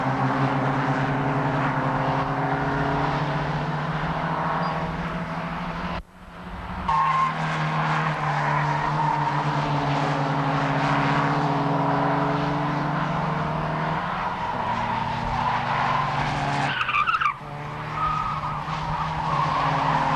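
Formula First single-seater race cars screaming past on a racing circuit, loud high-revving engines rising and falling as one car follows another, with a brief gap in the noise midway.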